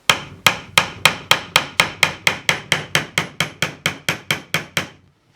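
Steady hammer taps on the hub of an Ashford Traveller 3 spinning wheel during assembly, about twenty crisp, close strikes in an even, quick rhythm, each ringing briefly before the next, ending in quiet.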